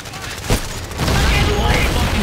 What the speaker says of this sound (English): They're getting shot from hospital.